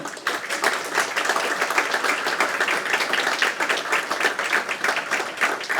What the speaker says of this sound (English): Please give a round of applause for Central Market